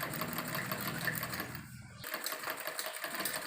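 A sewing machine runs steadily, stitching a fine seam that joins foam along the very edge of a salwar hem, with a brief pause near the middle before the whirring resumes at close range.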